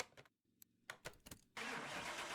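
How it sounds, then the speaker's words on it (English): A Holden Efijy concept car engine in Car Mechanic Simulator 2021 cranks with a few stuttering turns, then catches and settles into a steady, loud idle. "Let's get her started up."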